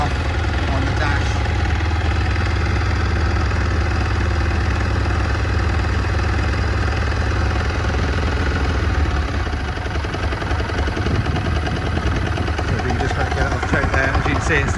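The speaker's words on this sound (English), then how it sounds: "engine's lovely and quiet on it" A cold 2003 Ducati 749 S motorcycle engine idles with a steady, even, close rumble that continues unbroken throughout.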